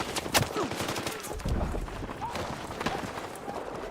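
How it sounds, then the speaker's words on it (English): Footsteps run close by in the online shooter Battlefield 6, mixed into busy game noise with bursts of gunfire, a steady dense bed of battle sound with sharp transients on top. "Footsteps to my right."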